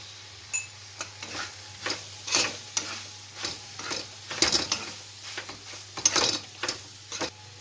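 Chicken keema sautés with chilli powder in a pan, a soft continuous sizzle broken by repeated close scraping and clinking stir strokes, with no voices.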